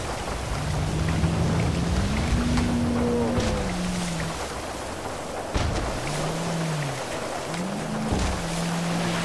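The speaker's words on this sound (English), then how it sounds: "I don't think this boat was meant for this kind of weather." A boat engine in a video game drones low and wavers in pitch as it labors through a storm at sea, with a steady wash of rain and rough water all around and an occasional sharp knock.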